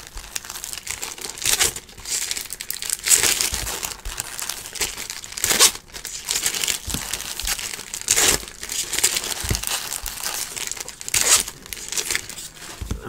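Foil wrappers on 2018 Bowman baseball card packs being torn and peeled open, a steady run of close, bright crinkling and ripping with sharper tears every few seconds and no talking.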